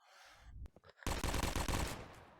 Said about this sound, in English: next up is Deadpool's Deagle